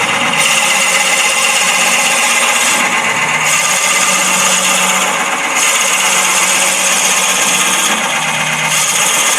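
A drill bores into a wooden workpiece spinning on a wood lathe, a loud continuous grinding whir lasting the whole stretch, with slight periodic shifts in tone as the bit cuts deeper; no talking.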